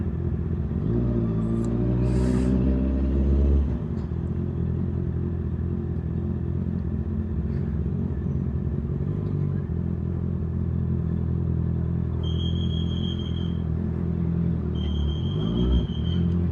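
A Honda CBR650R motorcycle cruises along at an easy pace with a loud, steady engine rumble up close, an early rev that climbs in pitch, and faint higher tones now and then over the drone.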